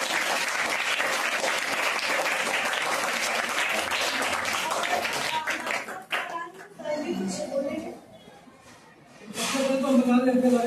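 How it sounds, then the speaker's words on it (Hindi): Loud, dense applause from the audience at a government school seminar, sustained for about six seconds before thinning into scattered claps and talk, then a brief resurgence of noise. "चलिए एक बार फिर से जोरदार तालियां।"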